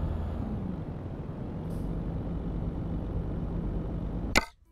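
Heavy truck in Euro Truck Simulator 2 driving steadily with a continuous low engine drone while overtaking, ending in a short sharp hiss like an air brake release before cutting out.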